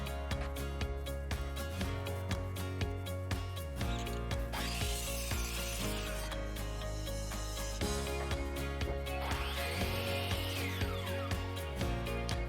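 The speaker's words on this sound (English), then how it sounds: "here I'm just cutting it at a 15-degree angle" A saw cuts 4x4 wood posts at a 15-degree angle. Two harsh, broadband cutting passes rise out of a busy clatter of clicks and knocks, all fairly faint.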